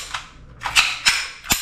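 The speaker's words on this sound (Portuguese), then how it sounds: "ela vai dar apenas um disparo, assim, tá? Vai fazer o blowback, o ferrolho voltar" TAG TG92 CO2 blowback airgun pistol firing in semi-automatic mode, 4.5 mm: a faint shot followed by three sharp, loud cracks with blowback slide clacks, spaced irregularly and close by, with no talk.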